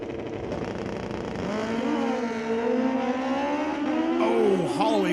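Drag racing motorcycles rev and launch at an NHRA Division 6 ET finals event at Mission Raceway Park. Loud engines climb steadily in pitch as the bikes accelerate away, and a final sharp rise and drop comes near the end.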